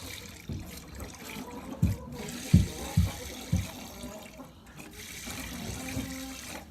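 Milk streaming into a bucket as a cow is hand-milked, a steady wet hiss with several rhythmic squirting spurts close by, heard alone without talk.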